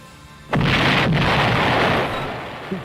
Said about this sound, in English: That explosion was loud as fuck.